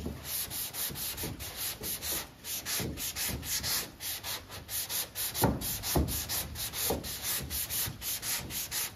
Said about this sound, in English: So let's block sand down to this line.